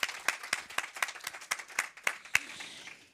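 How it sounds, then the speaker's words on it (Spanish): An audience at a literary event applauds in a moderate burst of sharp, distinct hand claps heard near and fairly loud, thinning out toward the end with no talking. "O sea que un aplauso también para mi querido Jorge"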